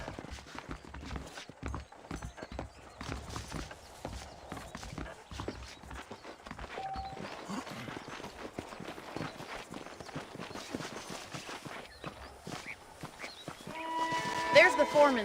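Horse hooves clip-clopping in the Western video game Red Dead Redemption, a quiet rhythmic trot running under game music and character dialogue, with a brighter tonal burst near the end.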